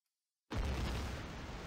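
A grenade explosion in a video game bursts in abruptly after a moment of silence, a loud deep boom that lingers as a rumbling roar.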